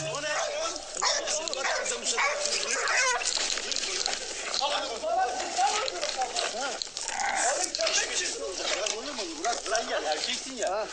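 Repeated close barking and yipping from a dog continues throughout, mixed with whining and overlapping voices of people talking.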